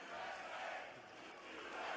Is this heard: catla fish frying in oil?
no